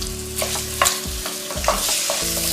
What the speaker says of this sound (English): just spread the shrimp around the surface of the pan